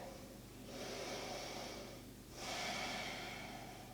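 Deep yoga inhales during a full-body flow, close and quiet: two long, airy breaths, each swelling and then fading, with a short pause between them.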